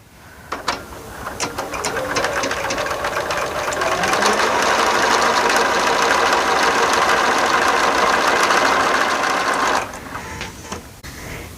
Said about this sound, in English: I'm going to start stitching on both sides